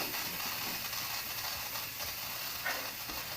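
Steam hissing from an Instant Pot as its pressure valve is released, a steady, unbroken rush of noise filling the whole clip at moderate level with no voices.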